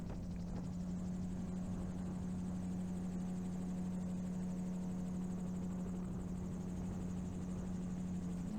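A gyroplane in flight over the Dee valley near Llangollen, heard from inside as a constant loud engine drone with a steady low rotor hum and airflow roar, unbroken throughout and with no talking.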